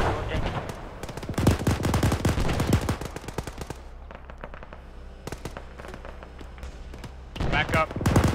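A mechanized vehicle's gun in ARMA 3 fires bursts at infantry, loud clustered reports early on, then scattered shots and a final burst, with radio chatter and voices between volleys.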